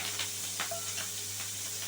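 Carrots and spring onions frying in leftover oil from cauliflower, a soft steady sizzle and hiss with faint stirring scrapes, quiet and close.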